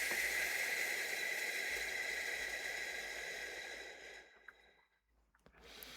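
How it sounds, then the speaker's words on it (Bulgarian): A long, steady exhale through the mouth during a guided morning breathing exercise. It is close and breathy, lasting about four seconds before fading into quiet, with a faint breath or two after. "Издишай през устата."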